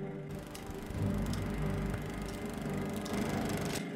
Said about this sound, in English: It's the lawnmower